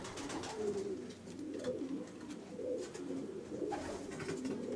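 Young pigeons near weaning age coo in a breeder's loft, soft rolling calls rising and falling in repeated overlapping phrases, close and continuous with no talk.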